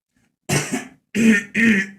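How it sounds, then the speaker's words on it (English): A person clears their throat in three short, harsh bursts, close to the microphone, with brief pauses between them. "Had to clear my throat there"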